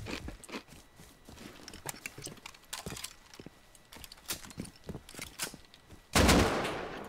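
AK assault rifle fire in the video game Rust, a rapid series of sharp crackling shots in short bursts, fairly faint and distant, ending with a louder, closer burst at the end.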